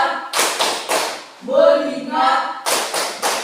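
A class stamps out a rhythmic clapping routine: two short bursts of sharp claps and taps in a steady beat, a pause filled with voices chanting together, then another quick volley of claps.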